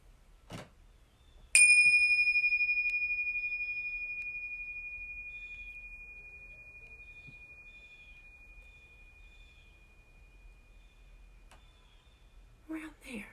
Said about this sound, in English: We're going to invite the bell to ring, and we're going to listen, and we're going to see how long we can hear it for.